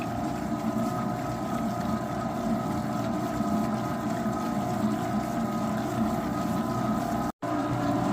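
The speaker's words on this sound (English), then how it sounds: "we've got all of our spice mixture put in our mixer. So we're going to take this thing for another spin" A meat mixer churns beef and spice mixture for homemade hot links, giving a steady, loud mechanical whirring hum that runs without a break, with one very brief dropout near the end.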